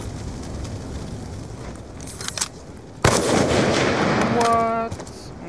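Gunfire in a first-person shooter game, an RTAK rifle in a free-for-all match against bots, with a sharp loud burst partway through followed by continuous action noise and other game sounds.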